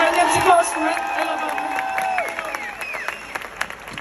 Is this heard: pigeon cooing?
no